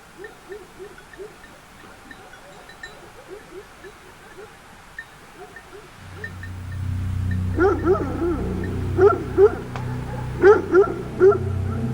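Shepherds' guard dogs bark and yip in a wild mountain setting, with scattered calls early on, then louder, repeated barking over a low rumbling backdrop in the second half.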